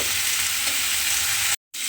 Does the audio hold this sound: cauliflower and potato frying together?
yes